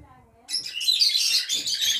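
Caged pet lovebirds and cockatiels for sale chirping, a burst of bright, shrill tweets close up after a brief moment of low voice, continuing busily to the end.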